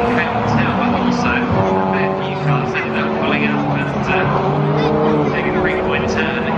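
Peugeot 206 GTI production race cars heading through Druids at Brands Hatch, engines droning loud and continuous as several cars pass in a pack, with a commentator talking over them.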